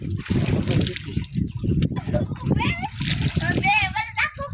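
Water splashes and sloshes as clothes are washed by hand at home, with dribbling and wet slapping under almost constant conversation between people nearby.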